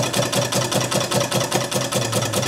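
An old Markie plough engine idles steadily nearby, its regular chugging beat repeating evenly with a mechanical ticking, no voices.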